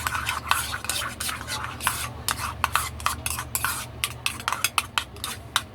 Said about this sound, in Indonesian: Lanjut ini kita aduk hingga tercampur merata